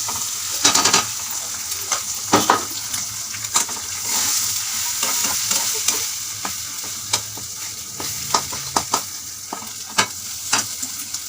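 Three eggs for bhurji fry in a hot pan, a continuous loud sizzle broken by repeated sharp scraping strokes of a spatula as they are stirred, close up with no talking.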